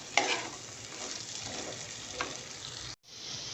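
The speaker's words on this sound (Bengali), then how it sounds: "এগুলোকে একটু তেলের মধ্যে ভালো করে ভাজা ভাজা করে নেব" Carrot, potato and other vegetables frying in oil for spicy semolina, stirred in the pan: a close, steady sizzle with a sharp scrape near the start and another later, then a brief cutoff.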